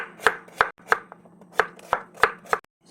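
A knife chops radish for dongchimi on a cutting board, seven or eight crisp, evenly spaced strokes close up, with no talk over them.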